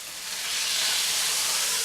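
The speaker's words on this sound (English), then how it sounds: "You hear that sizzling?" Chicken with sauce sizzles in a pan with a bright, steady hiss that swells slightly, close and fairly loud, with no talking.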